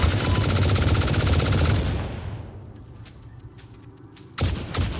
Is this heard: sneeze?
no